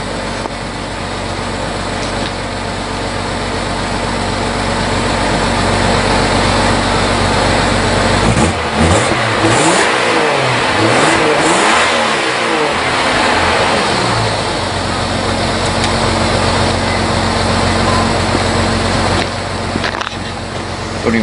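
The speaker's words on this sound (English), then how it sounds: "Everybody likes to see a good rev." A car engine idles loudly up close, then revs hard in a couple of rising and falling surges before settling back to a steady idle, heard with a newly fitted exhaust and the hatch open.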